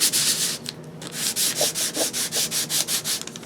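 A rough-grit nail file rubs back and forth across a magazine page in a steady series of about a dozen close, loud scraping strokes, with no one talking.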